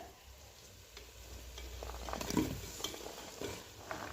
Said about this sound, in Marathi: मसाल्यामध्ये ह्या भाज्या आपल्याला परतून घ्यायच्यात सगळ्या